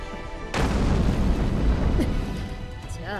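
Cannon fire bombarding a castle in the video game Neptunia x Senran Kagura: Ninja Wars, a sudden heavy boom followed by sustained rumbling blast noise, with faint game sounds underneath.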